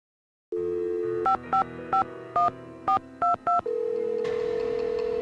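A telephone in the ticket booth in a Nancy Drew video game plays a steady dial tone, then seven short touch-tone beeps as a number is keyed in evenly one after another. A ringback tone follows.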